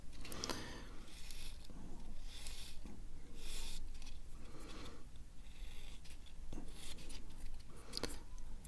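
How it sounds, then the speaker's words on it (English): Close, gentle rasping strokes of sanding on a plastic model kit part, removing a leftover nub, repeat in an uneven rhythm, soft scratchy bursts with small pauses between them. "and then just some gentle sanding to get rid of the last little bits of nub."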